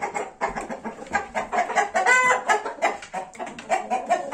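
A flock of young roosters penned in a garden clucks continuously in overlapping, busy bursts, with an occasional attempt at crowing rising above the chatter, close and loud.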